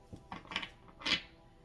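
Tarot cards being shuffled by hand, a few soft, brief riffling bursts close by, quiet with gaps between.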